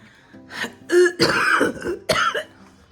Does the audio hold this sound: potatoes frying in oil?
no